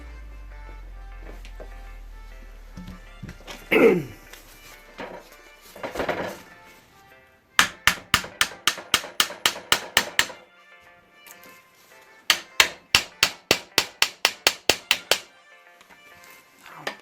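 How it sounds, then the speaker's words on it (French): A small hammer taps on an alternator part being removed during a restoration, two quick bursts of about a dozen sharp, evenly spaced metallic knocks each, close and clear, after some handling noises. "Et je vais prendre un petit marteau et on va taper dessus pour le retirer."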